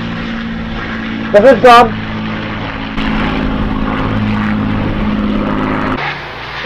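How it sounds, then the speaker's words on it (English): A propeller airplane drones steadily overhead for several seconds, a loud continuous engine hum, with a brief burst of speech near the start. "It's like one of our planes."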